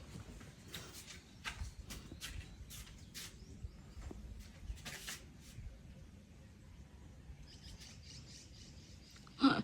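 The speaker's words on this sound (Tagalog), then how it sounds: "Rinig mo pa yung mga ano ng ibon eh." Birds chirp outdoors at a rural camp farm with family, giving short, repeated high calls at low to moderate loudness over steady background ambience, with a brief louder burst at the end.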